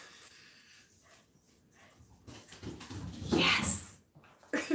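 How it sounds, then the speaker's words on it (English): A pet dog whimpers and scrambles up a flight of stairs indoors, with soft high whines and a rush of footfalls that builds in loudness before fading, fairly close and without talk. "That's the dog running up the stairs"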